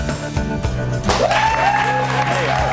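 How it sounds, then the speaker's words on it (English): A TV studio audience on a morning news show claps steadily throughout, a dense wash of applause with a voice speaking over it. "They're clapping like it's Friday."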